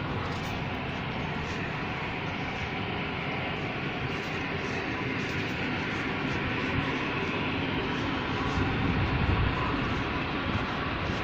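Steam-injected flare burning from an industrial stack at Grangemouth, a dense unbroken roar heard from nearby, constant and loud with a slight swell toward the end.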